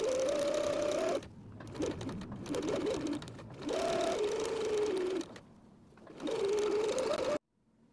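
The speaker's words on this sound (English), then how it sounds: "And we'll be sewing from the lining to the other side right here." A sewing machine stitches through the lining of a fabric face mask, its motor humming in three or four steady runs of fast needle chatter broken by brief pauses, close and clear.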